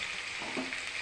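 A short, steady, soft sizzle of food frying in a pan, close and continuous with no talking.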